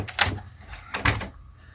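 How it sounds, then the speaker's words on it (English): A PC case side door swings open with two quick clicks and scrapes, close and fairly loud, in a quiet room. "So I did switch the door open."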